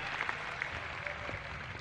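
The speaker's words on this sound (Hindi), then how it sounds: "बजाना है ताली तो एक साथ बजाइए कि पूरा हाल गूंज जाए" Audience applause fills a hall at a scout program gathering, a steady dense wash of clapping throughout with no clear breaks, moderately loud and even.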